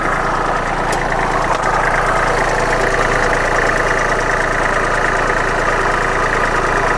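Diesel engine of a used Kubota L3408 tractor idling up close, a loud steady rumble with a fine rhythmic knock running evenly throughout, with no voices.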